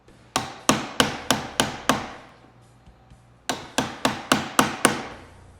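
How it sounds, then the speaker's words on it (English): A hammer strikes a Fastcap pocket chisel in two runs of sharp, evenly spaced metallic blows, about six each, separated by a brief pause. "you can actually use a hammer with this chisel"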